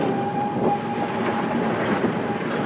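A train on the Gorai railway line rumbling along the tracks nearby with a steady, rhythmic clatter of wheels over rail joints, continuous throughout.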